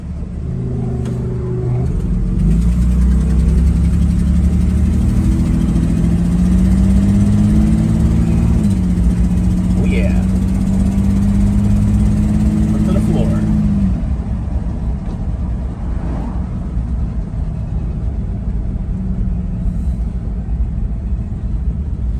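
A 1967 GMC C1500 pickup's big-block 305 V6 runs steadily at close range, a low rumbling idle with a puffing exhaust leak, rising briefly in a rev before settling back to a smooth idle.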